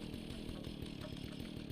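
A chainsaw in the video game Fallout drones with a steady rasping buzz, loud and continuous with no pauses and no speech.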